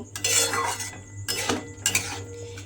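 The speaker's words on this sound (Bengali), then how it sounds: "এইভাবে কিন্তু আবারও একটু মিশিয়ে দিতে হবে" A spoon stirs chhana into mung dal curry in a pan, giving several bursts of close metallic scraping and clinking with short pauses between them.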